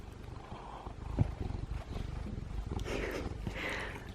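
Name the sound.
cat purring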